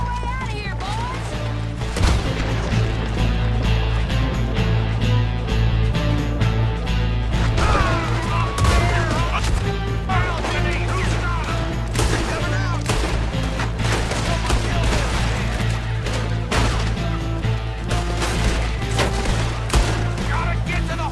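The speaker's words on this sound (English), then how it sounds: "We're shooting our way out of here, boys!" Shootout gunfire in Red Dead Redemption 2, dense and continuous for about twenty seconds, with sharp shots and crashing impacts layered over a low rumbling bed and occasional shouting voices.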